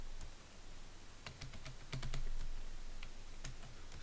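Fingers type on a computer keyboard in a quiet room, giving a run of light, irregular clicks that cluster near the middle. No one speaks.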